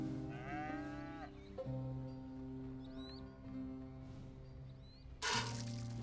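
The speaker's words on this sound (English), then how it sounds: "That cow likes you." A cow in Red Dead Redemption 2 gives a low, drawn-out moo at the opening, then a second bellow near the end over steady game ambience and music.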